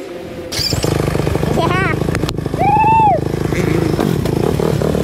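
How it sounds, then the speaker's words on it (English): A brand-new Yamaha dirt bike engine with electric start revs nearby, a loud raspy buzz that rises and falls in short bursts while voices talk over it. "Dirt bike. Yeah. Brand new Yamaha."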